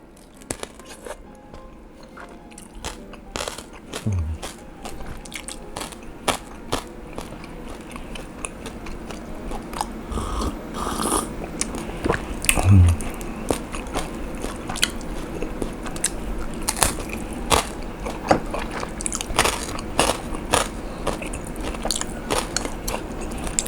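Crispy pork belly with a large serving of egg noodles gets bitten and chewed close up, a long run of loud, irregular crunches and wet chomping with occasional smacking, and no talking.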